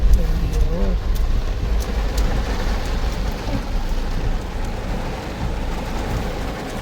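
Heavy rain falls on a potholed road in a steady, dense hiss, with a low rumble underneath that suggests passing traffic, heard continuously at close range.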